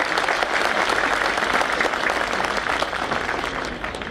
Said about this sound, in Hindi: तो एक बार ताली चेयरमैन और चीफ मिनिस्टर दोनों के लिए